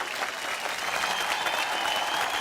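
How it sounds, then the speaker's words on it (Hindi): Dense, loud applause from a crowd fills the air at the announcement of a kite-flying competition prize, a steady wall of clapping with no letup. "अरे भाई जोरदार तालियां"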